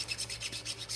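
A chainsaw sharpening file rasps against a bushing in rapid, even back-and-forth strokes while an RC car chassis is assembled, close and steady with no talk.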